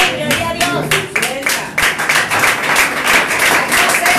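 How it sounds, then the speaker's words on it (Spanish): Clapping from a church congregation during a service, loud and continuous with sharp hand-clap transients, mixed with voices and cheering over the whole stretch. "Más fuerte ese aplauso que para el rey"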